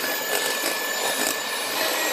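An electric mixer beats brownie-style cake batter after eggs have been added. It makes a loud, close, continuous whirring drone with slight wobbles as the beaters move through the bowl.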